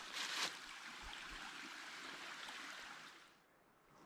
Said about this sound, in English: you got the creek beside you here.